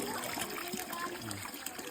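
Water flows steadily through a small water channel outdoors, a faint continuous trickle and gurgle that stays low and even throughout, with no voices.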